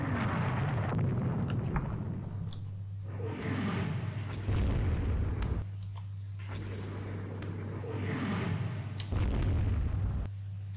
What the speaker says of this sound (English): hit by a torpedo